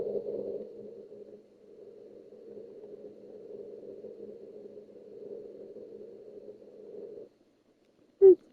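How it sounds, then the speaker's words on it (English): A low, steady droning hum from a Minecraft room-tone loop repeats for several seconds, then cuts out, followed by a brief sharp click. "there's a short looping sound in that game"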